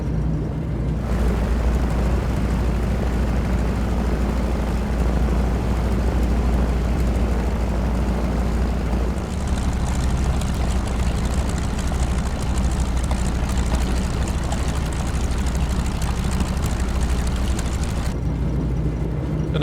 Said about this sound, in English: T6. Nice heavy radial engine.